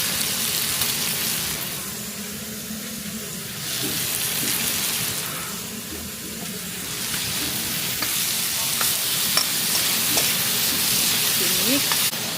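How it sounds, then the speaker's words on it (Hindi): Green chilies and other ingredients fry in a pan for a chicken chilli dish, giving a steady, fairly loud sizzle with occasional stirring scrapes and small crackles, no voices. "We have to fry it."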